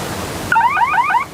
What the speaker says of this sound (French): the 10-second buzzer hits